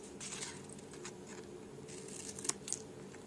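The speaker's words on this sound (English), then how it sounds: "So I'm just going to turn it over and trim off my edges" Paper snips trim the edges of crafting paper, a few soft quick cuts and rustles close up, with sharper clicks of the blades near the end, quiet and alone.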